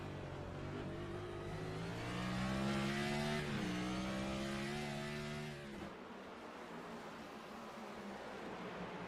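Race car engine on an eNASCAR video game onboard view, a steady high droning whine that swells under throttle, dips, then settles into a lower continuous roar.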